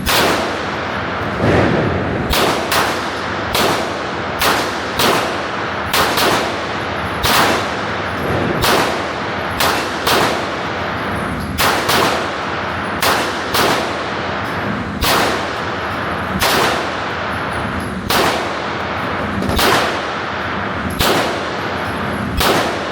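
Sig Sauer P211 GTO pistol fired at an outdoor range: a long string of loud, sharp shots at an uneven pace, some in quick pairs, each cracking close and echoing over continuous background rumble, with clanging hits between.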